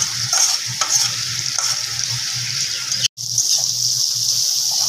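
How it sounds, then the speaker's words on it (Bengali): Potato, pointed gourd and shrimp with turmeric sizzling loudly in a hot pan while being stirred, a dense continuous frying hiss with soft scraping strokes and a brief cut-out partway through. "এবার এই হলুদটা দিয়ে ভালোভাবে একটু নাড়াচাড়া করে নিচ্ছি"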